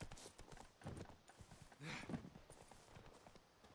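Horse hooves clip-clop in an irregular trot in the Witcher 3 game world, fairly faint, mixed with soft rustles and a couple of heavier thuds.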